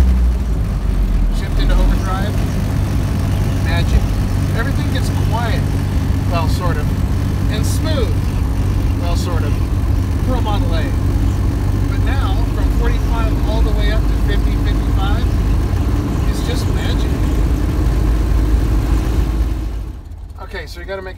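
A Ford Model A running in Mitchell overdrive drives with a steady, low engine hum and road rumble, while someone talks over it throughout before it quiets at the end.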